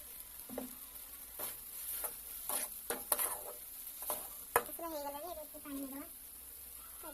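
Aloo paneer curry stirring and sizzling in a pan, with a spoon scraping and clinking against the metal in scattered strokes; a voice speaks faintly in the background.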